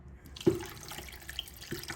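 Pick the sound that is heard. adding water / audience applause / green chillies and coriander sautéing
adding water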